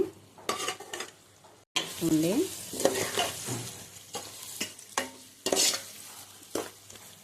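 Large pieces of fried egg are tossed into a frying pan and stirred, giving irregular bursts of scraping and clattering against a low background sizzle, close by with short pauses between strokes.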